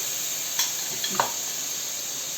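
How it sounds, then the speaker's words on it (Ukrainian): A steady, soft sizzle of homemade tomato paste frying in a pan, with a few faint clinks of a utensil stirring near the middle. "І його пересмажую."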